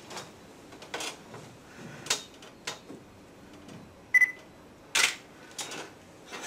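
Several sharp camera shutter clicks scattered among small handling noises while photographing a magnolia outdoors, brief and fairly close, with no talking.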